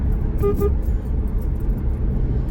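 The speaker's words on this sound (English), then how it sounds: "Sorry, I had to honk the horn at an old friend." A car horn gives two quick honks outdoors amid steady road and traffic noise, the toots short and fairly distinct before the ambient rumble carries on alone.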